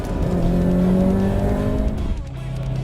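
Subaru Impreza STI of the GD chassis driven hard on a race track, with a loud sustained engine drone and rising tonal whine, a tire-squeal-like tone early on, and the engine note easing briefly before picking up again.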